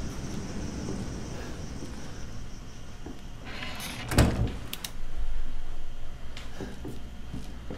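A door in a dark Resident Evil 7 game setting swings and closes with a sharp thud, followed by a short rumble, set against a steady low ambient drone.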